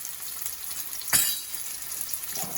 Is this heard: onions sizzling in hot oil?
yes